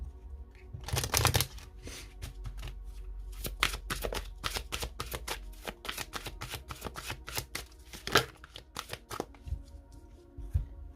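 Oracle cards shuffled by hand: quick, crisp riffling bursts and flicks repeat closely in an irregular rhythm, near and moderately loud, with no voice over them.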